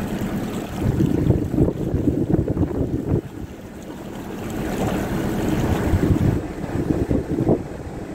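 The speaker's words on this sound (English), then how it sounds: "This wind is actually getting really quite choppy, especially in these exposed places." Strong wind gusts buffet the microphone on an exposed stretch of canal, a steady roaring rush with choppy water sounds beneath, swelling and easing over about eight seconds with no talking.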